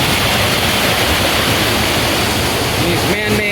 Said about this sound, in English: There's water splashing all over you.